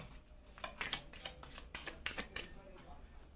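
A new deck of tarot cards is shuffled by hand, with a string of soft, close riffles and light slaps spaced under a low steady background, and a voice speaks over the shuffling.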